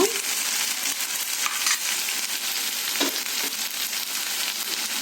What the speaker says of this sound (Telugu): ఇప్పుడు కట్ చేసుకున్న టమాటా ముక్కలు వేసుకుందాము వేసుకొని కలుపుకుందాము